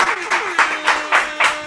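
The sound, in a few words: audience clapping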